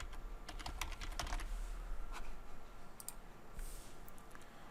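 Rapid clicking of a computer keyboard as search keywords are typed into a research database, heard close and fairly quiet, with steady bursts of keystrokes and brief pauses and no talk.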